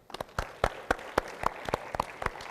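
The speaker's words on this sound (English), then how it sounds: "I think they deserve another round of applause" An audience at a youth climate conference opening ceremony claps in a light, scattered round of applause, individual claps distinct and fairly faint in a large hall.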